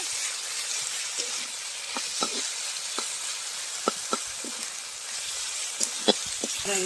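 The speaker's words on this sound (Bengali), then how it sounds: "আদা রসুন ভালো করে ভেজে নেব" Ginger and garlic fry in a pan with a continuous hissing sizzle, punctuated by scattered small pops and light utensil scrapes at an irregular pace; nobody talks.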